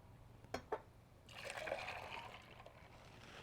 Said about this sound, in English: And I'm gonna add 2 more cups of water.